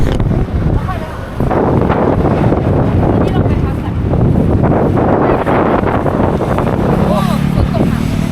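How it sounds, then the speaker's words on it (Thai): Loud, constant roar of strong wind buffeting the microphone, with a dense rushing wash like heavy rain underneath, steady throughout with no clear pauses. "ฝนตกแรงขึ้นแล้วครับ แล้วก็ลมแรงมากขึ้นด้วย"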